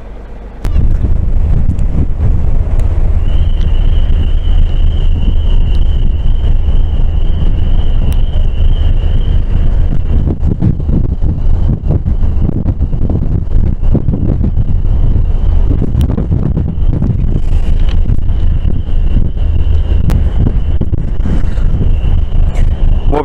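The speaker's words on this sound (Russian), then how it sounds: "я надеюсь, что меня слышно, ветрюга дикий" Strong wind roars and buffets the microphone in a constant loud rush near a ferry, with a faint steady whine underneath throughout.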